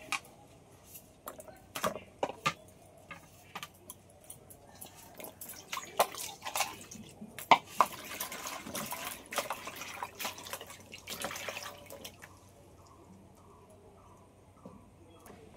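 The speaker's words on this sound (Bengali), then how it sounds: "প্রথমে আঙুর ফলগুলো ধুয়ে নেবো।" Grapes being rinsed in water at home while preparing fresh fruit ice cream, giving a run of small irregular drips, splashes and clicks at close range, with quiet handling noise between them.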